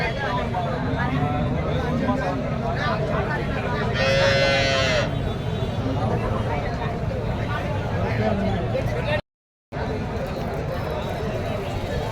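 Busy cattle market in Karimangalam with crowd chatter throughout; a cow lets out a moo partway through, standing out briefly above the hubbub.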